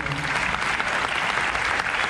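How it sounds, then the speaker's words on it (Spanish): Steady applause from an audience, dense continuous clapping filling the whole moment without pause. "Un aplauso, por favor."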